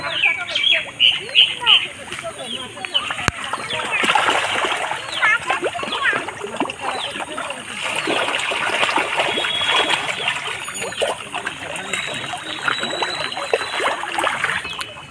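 Magur catfish thrash and splash at the surface of a farm pond during feeding, a busy run of wet slaps and splatters with birds faintly chirping in the background.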